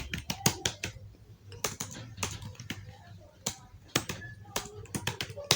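Typing on a computer keyboard while entering text into an Excel spreadsheet, clusters of crisp close key clicks in quick irregular bursts with short pauses between, faint and alone.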